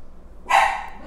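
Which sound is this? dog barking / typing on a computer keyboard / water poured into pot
dog barking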